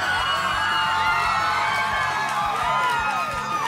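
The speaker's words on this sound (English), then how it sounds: "So everyone's screaming back there." A crowd of fans screams, whoops and cheers continuously at a Kanye West appearance, loud and dense, with shrill high-pitched yells layered over a steady roar.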